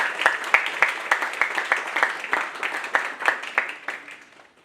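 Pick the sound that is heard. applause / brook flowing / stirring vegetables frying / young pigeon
applause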